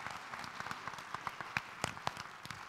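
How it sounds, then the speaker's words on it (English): An audience applauds a volunteer at a mentalist's stage show, with individual sharp claps standing out clearly in a moderately sized crowd, steady and close, with no talking. "Please give Carla a big round of applause."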